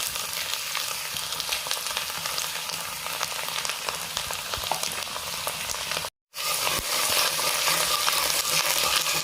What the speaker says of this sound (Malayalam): ഇനി അതിലേക്ക് നമ്മൾ ചെറുതായിട്ട് മുറിച്ച ഇഞ്ചി ഇട്ട് കൊടുക്കാം.